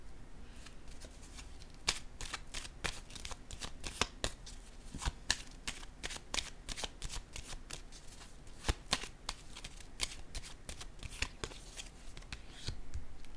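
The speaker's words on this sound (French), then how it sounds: "je vais piger une autre carte ici" Tarot cards are shuffled steadily for over thirteen seconds, a dense stream of quick riffling flicks and soft slaps, close and fairly quiet, with no one speaking.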